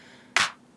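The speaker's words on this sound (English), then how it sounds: "for claps, it's good to sort of delay a little bit to give that, you know, multi-clap sound" A single sharp flammed clap sample from a Logic Pro drum beat in a remix, one crisp snappy hit with a brief decaying tail, alone.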